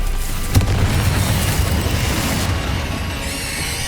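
A Bombarda blasting spell explodes in Hogwarts Legacy, a loud booming burst with a sharp crack near the start, followed by sustained rumbling debris and low roar that gradually thins out.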